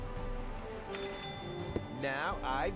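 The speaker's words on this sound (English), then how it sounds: "It was supposed to be a doorbell prank." A doorbell rings in the Deponia adventure game as part of a prank, a short bright chime of sustained tones over low game ambience, followed by a rising electronic jingle.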